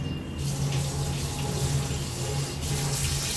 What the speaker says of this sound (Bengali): সাবান দিয়ে বেসিনটাকে আমি ধুয়ে নিলাম।